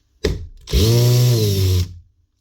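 A Makita combi drill stuck in hammer mode runs up close: a brief blip, then a roughly one-second burst of whining motor buzz that cuts off cleanly, with silence either side.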